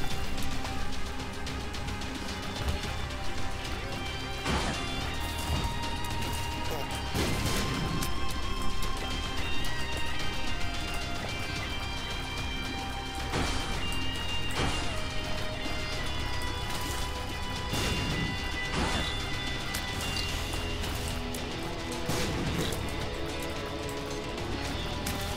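Explosions in The Binding of Isaac: Repentance video game, heard as several short, sharp bursts spread across a continuous, dense bed of game music and effects.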